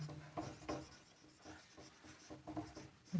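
Strokes of writing while a Venn diagram is drawn, a series of soft rubbing scratches in an uneven rhythm, close and quiet.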